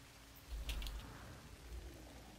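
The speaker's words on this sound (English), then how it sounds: "It's almost like poisoned rain." Steady hiss of rain falling in No Man's Sky, the game's poisoned-rain weather on an alien planet, a soft continuous wash with a brief louder swell near the start.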